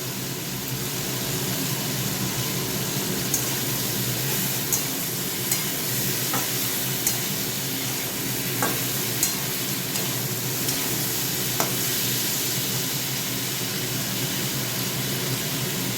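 Food, likely vegetables for a lentil dish, fries in a pan with a steady broadband sizzle, while a utensil stirs and scrapes with occasional sharp clicks against the pan throughout.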